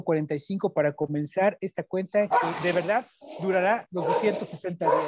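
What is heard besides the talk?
dog barking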